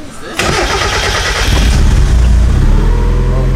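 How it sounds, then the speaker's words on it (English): Boosted Mazda Miata engine starting close by: a brief cranking whir, then the engine catches and settles into a loud, rough rumbling idle. "Just start it up, RJ."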